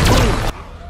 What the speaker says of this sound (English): activate sonic boom